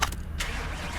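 Jeep Wrangler engine starting in Car Mechanic Simulator: a brief starter crank with a couple of sharp bursts, then settling into a steady low idle rumble, close and alone.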